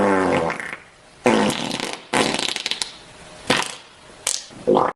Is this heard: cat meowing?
no